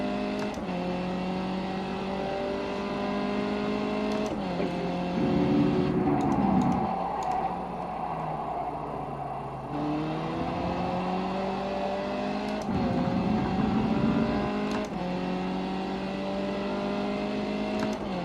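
Race car engine in the iRacing sim at Twin Ring Motegi GP circuit, revving steadily through repeated upshifts and rising pitch sweeps, with a few deeper dips under braking, loud and continuous throughout.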